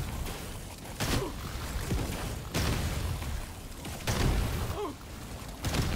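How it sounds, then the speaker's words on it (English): Explosions in the game Deep Rock Galactic: Survivor sound as repeated sharp bursts, about one per second and a half, over a constant layer of game noise with smaller pops between them. "More explosions."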